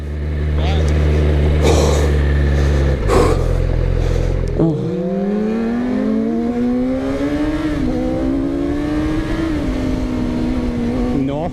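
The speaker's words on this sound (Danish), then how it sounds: "Nu må jeg hellere få snakket lidt om den her fine motorcykel, jeg kører på." Engine of a 2017 Yamaha YZF R6 sport motorcycle while riding: a loud, steady engine note with rising and falling pitch as it revs and shifts, with wind noise and a brief passing roar near the start, with no talk.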